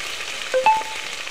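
Onion paste frying in a pan for a country chicken curry, a faint, soft hiss with a short clink of utensils partway through.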